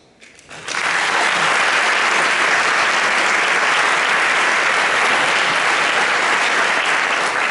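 An audience at a book presentation breaks into applause, which builds quickly from a quiet start into loud, sustained clapping that keeps going to the end.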